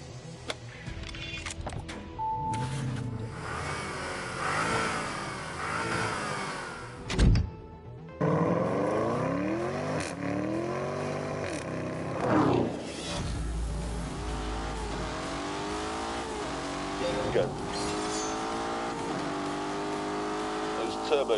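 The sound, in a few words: Lamborghini Urus engine revving uphill in Grand Tour video game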